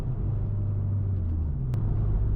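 Acura RSX-S DC5 rolling over a bumpy road, a steady close low rumble of engine and road noise throughout, with one brief sharp knock near the end.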